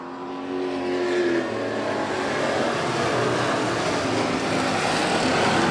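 Race cars roar around the track at the 2023 Boss Hogg 150. Loud, sustained engine whines layer over one another and build in intensity, with no voices.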